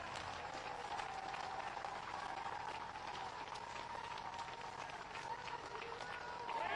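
A crowd at an outdoor political rally in Rai, Sonipat, claps to welcome Yogi Adityanath, a continuous distant patter of many hands with a faint murmur of voices beneath.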